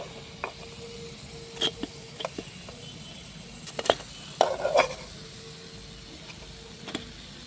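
Sweet potato fritters (fuluri) fry in oil in a small kitchen, a soft low sizzle under scattered light clinks and scrapes of a utensil against the pan, close and fairly quiet.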